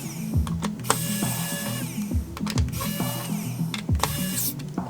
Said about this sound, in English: So let me just screw this back in.